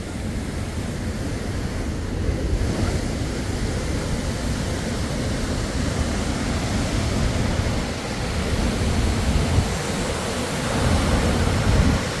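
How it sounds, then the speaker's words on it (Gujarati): Heavy monsoon rain pours down without pause near an overflowing dam, making a continuous broad roar that swells slightly in places and carries no voices. "અને વરસાદ પણ ચાલુ જ છે કન્ટિન્યુ."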